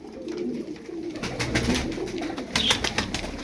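Tumbler pigeons coo softly and repeatedly in a loft, low throaty calls overlapping close by amid light rustling, with no talk.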